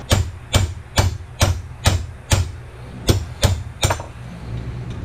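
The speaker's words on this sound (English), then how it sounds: "those pins, you know, you got to hammer them out and everything" Metal hinge pins being hammered out of door hinges on an ATA rack case, nine sharp, evenly spaced strikes ringing out close and loud with no talk.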